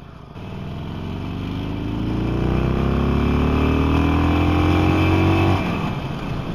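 A 2020 Harley-Davidson Sportster 48 motorcycle engine rumbles loud and close, its deep V-twin note rising steadily as it revs and accelerates, then easing back off near the end.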